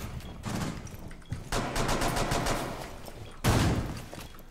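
Gunfire in the Rainbow Six Siege video game crackles as loud, rapid bursts of automatic shots with short breaks, ending in a heavier close blast.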